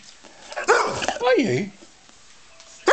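A Labrador makes short whimpering yips and a brief bark, close and moderately loud, alternating with a person speaking to it in an affectionate voice.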